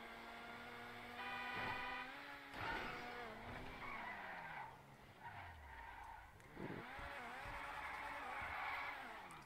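An FMJ hypercar in GTA Online races along with a high engine whine that rises and drops through gear shifts, joined by tire skids and squeals, fairly quiet but continuous.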